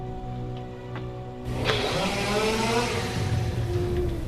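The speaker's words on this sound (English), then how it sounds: "that's the sound of like a chainsaw, because I didn't know what a weed whacker sounded like" A chainsaw-like motor sound standing in for a weed whacker in The Webkinz Show: steady buzzing, engine-like, starting after a quieter stretch at about 1.5 seconds and loud and continuous to the end, without any speech.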